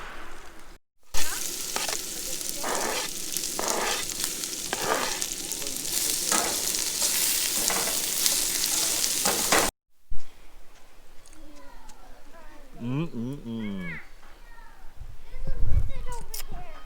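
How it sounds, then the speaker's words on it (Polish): Sausage frying in a pan alongside tomatoes at a campsite breakfast by a trailer, a steady close sizzle for about nine seconds before a break, then quieter outdoor sounds with brief speech. "tam się smaży, smaży kiełbaska"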